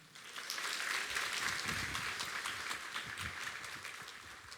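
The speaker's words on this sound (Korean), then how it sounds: "목사님을 힘찬 박수로 함께 모시도록 하겠습니다." A church congregation breaks into applause welcoming the pastor to preach, a full, continuous round of clapping that swells in quickly and stays even and fairly loud.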